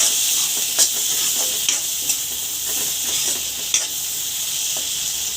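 Dried fish is stirred into cooked-down tomato in a hot pan, making a bright, hissing sizzle with soft periodic scrapes of the stirring spoon and no speech.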